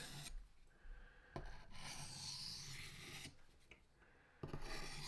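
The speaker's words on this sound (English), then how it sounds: "We're just polishing that edge and breaking that little bit of a burr off." A bushcraft knife edge is drawn lightly across a sharpener to polish it and break off the burr, giving soft, close rasping strokes in an uneven rhythm with brief pauses between passes.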